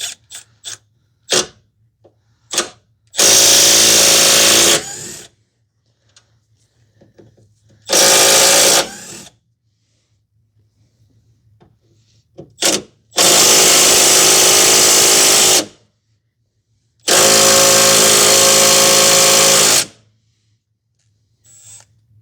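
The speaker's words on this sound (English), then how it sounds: "we're just going to remove the 2 nuts and the 1 bolt for the lower BJ ball joint" Bursts of a power tool working the two nuts and one bolt of the lower ball joint on a 2009-2019 Toyota Corolla front suspension, several loud multi-second whirs separated by short clicks and pauses.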